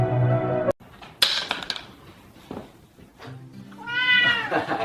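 Cats meowing excitedly at their owner's homecoming, several drawn-out, rising meows near the mic with a sharp knock partway through and a long wavering meow at the end.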